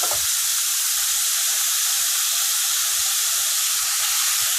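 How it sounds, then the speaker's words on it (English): Seasoned shrimp hit a little hot oil in a pan and give off a loud, constant sizzle that runs the whole time, with a few soft low knocks from the pan underneath. "So we're going to put them in the just a little hot oil just for coloring."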